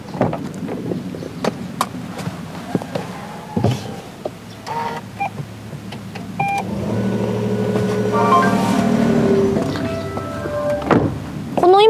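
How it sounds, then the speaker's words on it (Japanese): Cabin of a Daihatsu Rocky hybrid with a few faint clicks and switch sounds, then the engine starts with a rising whoosh and hums steadily near the car. No one talks. "ちょっとエンジンつけてみますね"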